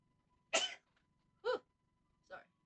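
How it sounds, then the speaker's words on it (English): Three separate sneezes from one person, sharp and close, spaced about a second apart against near silence. "Sneezing up a storm"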